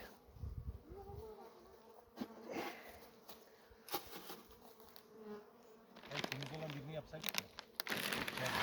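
Honey bees in an overwintered outdoor hive with heavy damp inside, buzzing steadily and close, along with crinkling and handling noises as frames are worked, while people talk quietly.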